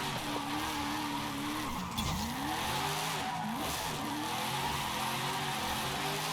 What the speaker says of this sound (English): It does want to just keep going sideways though, constantly, because this thing has so much power.